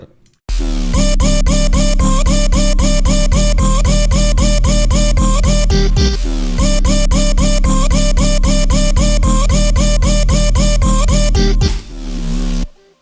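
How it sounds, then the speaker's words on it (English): Loud synthesized chords from FL Studio pulse in a fast, even rhythm, pausing briefly midway before the pattern repeats, with no voices. "So you can hear my chord progression going off here"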